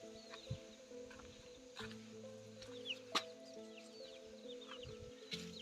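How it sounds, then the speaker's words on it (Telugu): A tethered rooster at a tribal village home clucks in short, scattered calls over a faint steady hum, with chirping birds in the background and a few sharp knocks, heard at moderate distance and fairly quiet. "చూడండి కోడిపుంజు"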